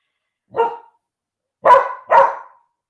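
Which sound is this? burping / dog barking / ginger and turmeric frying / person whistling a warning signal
dog barking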